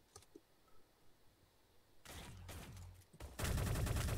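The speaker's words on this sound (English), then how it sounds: "Apparently, I'm no good with the sniper rifle." Rifle shots ring out in the Shell Shockers first-person shooter, arriving as a loud burst of gunfire that breaks a quiet stretch and then a second, denser volley close up near the end.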